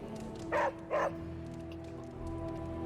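The demon dog in the video game Marvel Midnight Suns gives two short, close barks in quick succession over a low steady background hum, then falls quiet.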